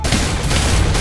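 Gunfire aimed at a mutant villager boss in a video game rattles as a loud, dense, continuous barrage of overlapping shots with a booming low end, close and unbroken.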